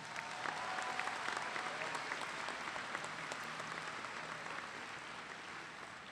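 Sustained audience applause fills a graduation ceremony at Kennesaw State University, a steady dense wash of many clapping hands that holds at a fairly even level and eases slightly toward the end.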